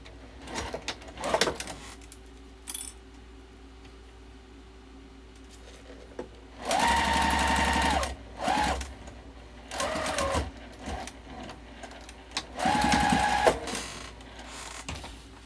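A sewing machine stitches the gusset of a fabric wallet made from fat quarters, running in several short, loud bursts of rapid whirring, separated by quieter pauses with small clicks and handling noises.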